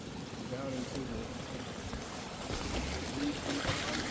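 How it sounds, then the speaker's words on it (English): A small waterfall out in wooded country, heard as a steady wash of rushing water under faint, soft murmuring voices, constant throughout and growing slightly louder toward the end. "Ooh, a nice little waterfall."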